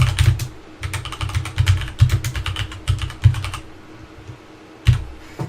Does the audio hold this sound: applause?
no